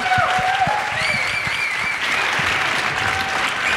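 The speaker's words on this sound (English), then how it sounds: "a big, big round of applause" Loud, steady applause from a crowd fills the whole moment, with a few whistles and cheers rising above the clapping.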